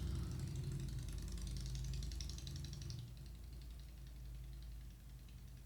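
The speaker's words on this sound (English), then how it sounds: "sounds like there's a tank driving past" A heavy vehicle rumbles past outside, a loud low engine drone with vibration that swells then eases slightly as it moves on, heard alone with no talk.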